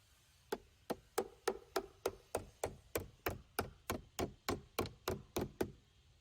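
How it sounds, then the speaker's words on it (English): Hammer tapping plastic wall fasteners while shutters are installed: sixteen sharp, evenly spaced knocks about every third of a second, close and distinct, with no talk. "Gently tap the plastic fasteners into the wall with a hammer."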